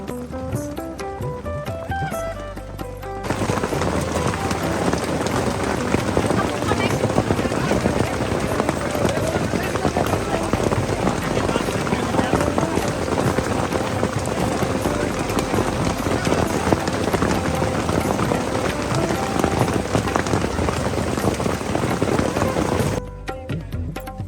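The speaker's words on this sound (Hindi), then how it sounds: "ठंडी हवा, तेज बारिश और बर्फबारी शुरू हो गई।" Heavy rain driven by cold wind on a mountain trail on the Kedarnath pilgrimage route makes a steady, dense roar that holds for about twenty seconds and then cuts off abruptly.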